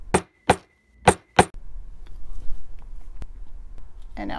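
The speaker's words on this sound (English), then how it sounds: "I'm gonna come in and hit this with my plastic mallet to get it back to flat." A plastic mallet strikes metal laid on a padded steel bench block four times in quick succession, sharp near taps with short gaps, followed by quiet handling and shuffling sounds.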